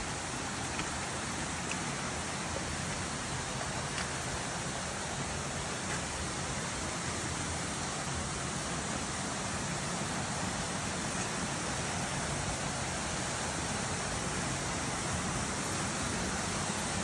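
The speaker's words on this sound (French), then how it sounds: "On est arrivé en haut de la cascade." Waterfall and flowing water at Chetco Waterfall in Thailand, heard from the rocky top of the falls: a loud, steady, unbroken rush of water with no talking.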